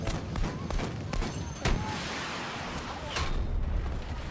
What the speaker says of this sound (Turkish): Ya ben o kadar top atıyorum sana bomba atıyorum.